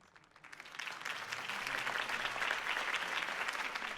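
Crowd applause from a political campaign rally for Harvey Dent in Batman: The Telltale Series, a dense wash of clapping that swells within the first half second and holds steady and loud to the end.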